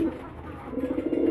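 Homing pigeons coo softly in a loft kept for breeding and sale, a low murmuring warble that swells slightly toward the end against a steady background hiss.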